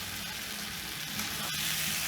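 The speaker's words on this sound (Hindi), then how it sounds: "थोड़ा सा इसको दबा दबा के इस तरह थोड़ा सा मैश कर देंगे" Pressure-cooked beans are mashed in their cooking water, giving a steady wet, bubbling, sizzling texture that runs unbroken and fairly faint.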